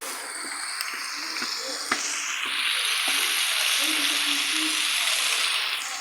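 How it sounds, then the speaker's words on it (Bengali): Meat being sautéed in ghee in a pan, a steady broadband sizzle with a few sharp scrapes and clicks of stirring, louder in the second half, with no talking. "এবার ভালো করে এগুলো কষে নেব বন্ধুরা মাংসটা"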